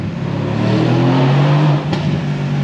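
Mercedes-AMG C63 S Coupé with V8 biturbo engine, a loud close rumble of exhaust as the driver lifts off the throttle, with a brief crackle and a dip in level near the end.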